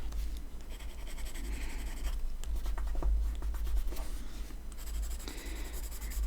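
Graphite pencil shades and smears across paper in a Zentangle drawing, a close, quiet scratchy rubbing in repeated back-and-forth strokes with brief pauses.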